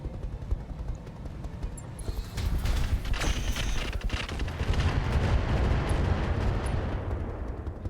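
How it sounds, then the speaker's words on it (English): A barrage of rockets fires at a mech in the RogueTech game, beginning after a quieter start with a loud sustained roar of launches and impacts that rumbles on to the end. "we could shred that very hard with the rockets."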